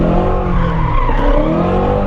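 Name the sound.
2017 Shelby GT350 tires skidding while drifting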